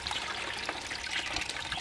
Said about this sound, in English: Okay, so you're stirring up the water to,